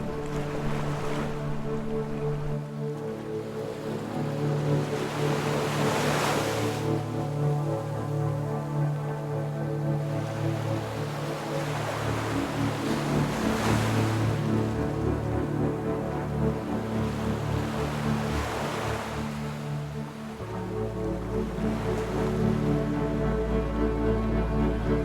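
Ocean surf and wind on Nags Head Beach, with steady roaring wash and periodic waves breaking in swells, plus low wind rumble buffeting the microphone, continuous and fairly loud with no talking.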